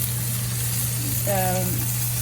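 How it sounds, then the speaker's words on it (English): Chicken frying in a pan for a chicken and dumpling casserole gives a steady, high hissing sizzle throughout, with a short voice briefly rising over it. "You can hear the sizzle nice and high."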